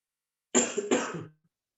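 Two quick harsh coughs from a teacher during a lecture, close and fairly loud, followed by a brief rasping throat sound, then silence.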